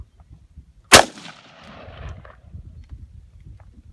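A single loud, close gunshot cracks outdoors, followed by a long rumbling echo that fades over a few seconds against faint background noise.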